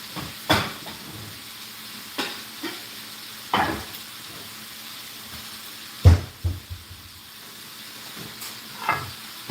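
Plantains fry in a hot pan with a close, steady sizzle, broken by several louder crackling bursts as the pieces are stirred and turned. Nobody speaks.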